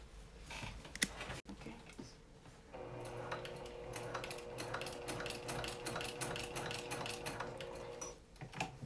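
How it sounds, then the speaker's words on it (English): Sewing machine stitching straps into an apron, a steady mechanical whir with fast rhythmic needle clatter running for several seconds, close and fairly quiet, with a few handling clicks before it starts. "I'll come back to the machine to show you how I sew it"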